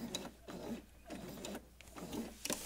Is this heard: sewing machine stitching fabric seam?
yes